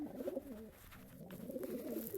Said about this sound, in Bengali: কোম্পানিগঞ্জ থেকে আমার 3 পিস কবুতরে আসছে।